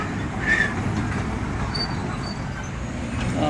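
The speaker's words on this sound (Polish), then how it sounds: "A teraz taka atrakcja, kolejka." Miniature park train ride rolling along its track, a steady rumble and rattle of wagons with faint wheel squeals, continuous and moderately near.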